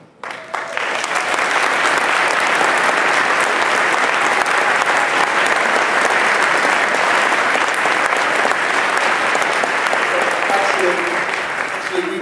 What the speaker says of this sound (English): Actually, we were looking for applause from you.